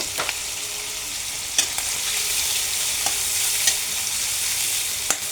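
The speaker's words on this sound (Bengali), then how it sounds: "চিংড়িটা আমি ভেজে নেব 5 থেকে 6 মিনিটের মতো, তারপর এটাকে তুলে নেব।" Shrimp seasoned with turmeric and salt fry in a pan with a loud, continuous, hissing sizzle, close up, broken by occasional light clicks from stirring, and no voices.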